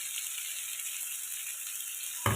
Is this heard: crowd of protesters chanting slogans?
no